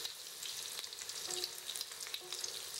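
Steady crackling sizzle of breaded chicken cutlets frying in fairly deep hot oil, close and continuous, with a couple of faint clinks partway through.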